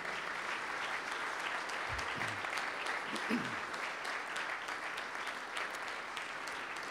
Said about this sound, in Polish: I teraz poproszę państwa o ładne brawa.